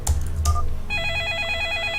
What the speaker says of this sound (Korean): 옆방에서 전화가 걸려왔다